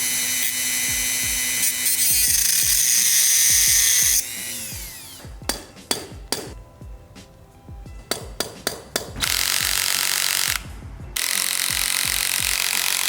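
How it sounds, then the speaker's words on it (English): A Dremel rotary tool cuts slots into the heads of security bolts on a Yamaha R3 motorcycle. Loud, sustained high-pitched grinding runs in long bursts, broken by a stretch of short separate scraping bites, with no talking. "I dremeled out some slots here so I could use a screwdriver"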